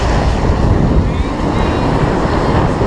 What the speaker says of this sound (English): Wind's 20 miles an hour out of the south.